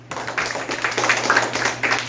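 Schoolchildren in a classroom break into a short burst of applause, many hands clapping close by in a lively, uneven patter that continues to the end.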